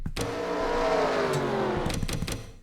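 A race car in an online racing sim league event at Ireland roars past with a loud revving engine that rises and falls, close and sustained, ending with a few sharp clattering knocks.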